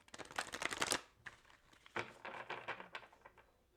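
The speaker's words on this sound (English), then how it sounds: "one more shuffle" Tarot cards shuffled by hand in a quiet room: a dense riffling burst through the first second, then a few shorter, softer shuffles that flutter and tap in irregular clusters, with no talking.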